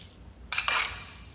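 A salad is tossed with garlic and salt flakes in a bowl, making two quick, close clattering scrapes of utensils against the bowl in an otherwise quiet kitchen.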